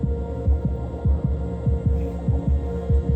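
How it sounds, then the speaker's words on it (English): Heartbeat sound from a metronome-style app with adjustable tempo, a steady rhythmic lub-dub thumping at a fairly quick pace over a low hum, close and alone. "And then going right, I can speed up the heartbeat."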